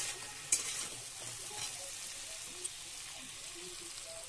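Masala with coriander and cumin powder frying in a pan, a steady bright hiss with a couple of sharp spatula knocks, close and moderately loud.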